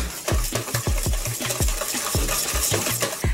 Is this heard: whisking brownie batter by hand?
yes